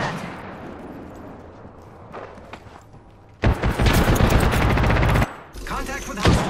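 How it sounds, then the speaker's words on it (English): Automatic gunfire from the Apex Legends video game bursts out loudly in long sustained volleys, with quieter game sounds before and a short gap between bursts. "Getting shot at."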